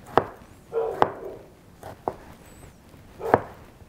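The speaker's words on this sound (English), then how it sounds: "Don't pay attention to the dogs." Dogs barking nearby while ceviche is prepared with a knife in a kitchen, several short sharp barks scattered irregularly, moderately loud over a quiet room.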